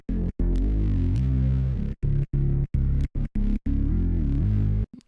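A heavy, distorted Serum synth bass plays a choppy pattern, loud and close, with sustained gliding notes cut by sharp gaps and quick stuttered bursts.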